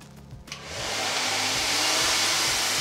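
A hair dryer blow-dries long, fine, straight hair to a sleek, glossy finish. It switches on after a short quiet moment, then roars loudly and steadily up close, with no speech.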